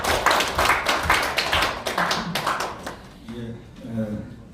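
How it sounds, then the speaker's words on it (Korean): Clapping from a seated audience at a National Assembly emergency forum as the Speaker is welcomed: a couple of seconds of close, sharp, scattered hand claps that thin out, followed by speech. "힘찬 박수로 맞아주시기 바랍니다."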